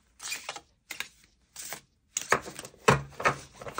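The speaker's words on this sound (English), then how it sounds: "These are a little too thick for shuffling." Stiff, thick tarot cards are handled and riffled in short bursts, several brisk papery flutters and taps separated by brief pauses, close and clear.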